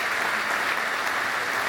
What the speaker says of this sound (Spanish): Así que dale un aplauso a Jesús.